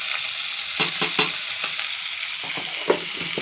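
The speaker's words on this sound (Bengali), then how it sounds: "নাড়াচাড়া করে একটু ভালো করে মাংসটাও ভেজে নিতে হবে" Meat frying in a pan and being stirred, with a steady sizzle broken by several sharp scraping strokes of the spoon.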